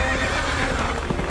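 A horse neighs in a Star Wars parody scene with space horses: a loud, dense whinny under a thick wash of noise, hooves and action sound, continuous throughout.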